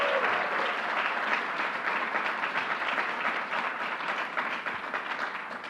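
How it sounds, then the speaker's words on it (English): A large audience at a New York City announcement with the governor breaks into continuous, fairly distant applause that holds steady for several seconds. "Let's give her a big round of applause."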